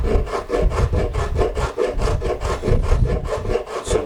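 Sandpaper rubbed by hand across the wooden headstock of an acoustic guitar during repair, a close, steady series of rhythmic back-and-forth rasping strokes, about two per second, with no talking.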